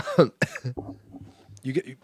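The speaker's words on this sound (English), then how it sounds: "you coughed on the mic" A cough into a close microphone, followed by a throat-clearing sound and low murmuring.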